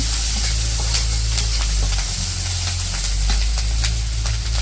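Onion and green chilies frying in hot oil, a loud, constant sizzle with crackling pops and occasional stirring scrapes, heard up close without interruption.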